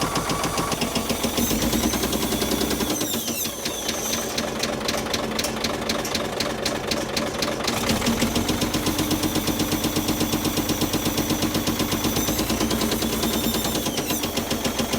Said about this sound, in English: but it's a massive diesel. I think it's supposed to kind of sound like that.